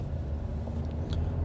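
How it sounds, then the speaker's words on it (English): Steady low road rumble inside a moving car, a continuous, fairly loud drone with no talk over it. "you might hear a little road noise. I'm driving in my car"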